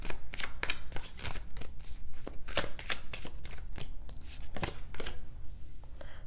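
Tarot cards shuffled by hand in a rapid flurry of crisp riffles and slaps, close and fairly loud, with no talking.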